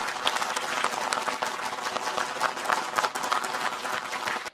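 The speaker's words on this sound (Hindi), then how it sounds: "हम चाहते हैं कि हमारे जितने भी स्पॉन्सर्स हैं उनके लिए भी एक दफ़ा ज़ोरदार तालियां।" Audience applause at a poetry gathering, a dense, steady wash of many hands clapping heard from some distance, moderately faint and sustained throughout without a break.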